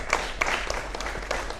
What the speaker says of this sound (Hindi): प्लीज़ ज़ोरदार तालियों के साथ स्वागत कीजिए।